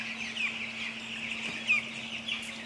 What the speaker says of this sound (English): Do we believe this one's a hen or a rooster?